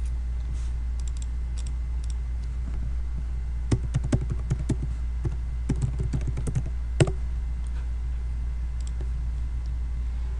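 Fingers tap at a computer keyboard in scattered bursts of clicks over a steady low hum, close and fairly quiet, with no talking.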